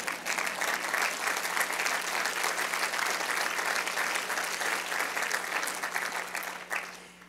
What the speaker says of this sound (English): can you lead some applause now?